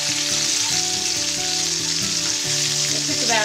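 Shrimp sizzle loudly in a hot stir-fry pan alongside spinach, a steady dense frying hiss with faint tonal hum beneath, running continuously with no voices.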